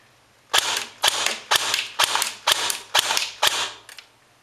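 An Ares TAR-21 airsoft gun fires about eight sharp shots at a steady, evenly spaced rhythm, each a crisp clacking pop with a short mechanical tail, loud and close with no other sounds.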